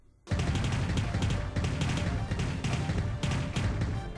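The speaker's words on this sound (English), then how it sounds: "Alright, starting off with explosions." Loud, continuous explosions in the video game Freedom Planet with repeated crashing bursts and rumble, dense and close, filling the whole stretch after a brief quiet start.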